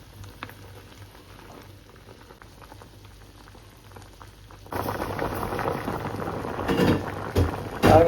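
Fish and agathi leaf sothi curry with tomato, onion and chilli boiling in a pot; a quiet simmer swells midway into loud, close, continuous bubbling, with no talking.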